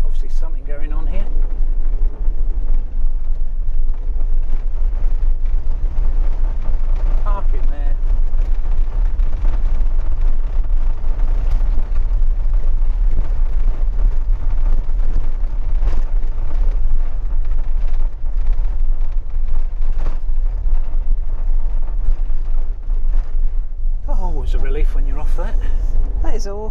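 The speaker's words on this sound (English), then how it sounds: "It's a car coming there." A car rumbles past close by a caravan site in Burrs Country Park, its engine noise swelling and fading, with people talking over a constant low wind-buffeted background.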